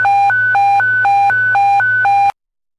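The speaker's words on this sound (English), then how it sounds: "All units stand by for evacuation tones." A fire dispatch evacuation tone plays over radio. It alternates between two pitches in a steady high-low warble, loud and clear over a low hum, and stops abruptly after about two seconds.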